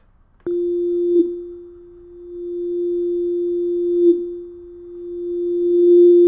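A sustained synthesizer tone from Ableton Live's Operator holds one steady pitch while its timbre sweeps slowly, swelling and thinning with a resonant filter edge near the cutoff frequency, loud and alone.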